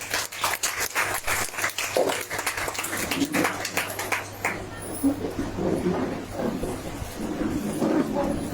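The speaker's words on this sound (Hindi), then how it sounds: "ताली के द्वारा स्वागत है" A church congregation at a Sunday service claps to welcome the preacher, with a burst of applause over a voice that fades into murmuring crowd noise and scattered talk.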